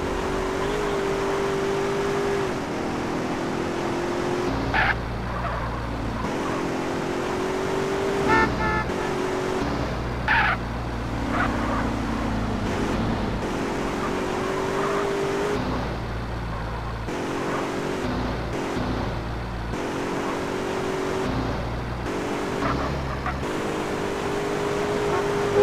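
A car drives through city streets in GTA San Andreas, its engine droning and revving over traffic, with repeated horn toots and short game voice lines breaking in now and then.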